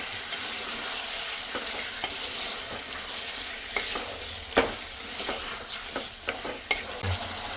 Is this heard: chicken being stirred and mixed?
yes